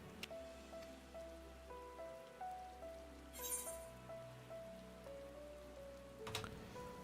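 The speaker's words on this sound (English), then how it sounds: "This would have been a much better looking scene if it wasn't raining." Steady rain falls in the video game Final Fantasy XIV, a soft, continuous patter under a gentle melodic background tune with no voices.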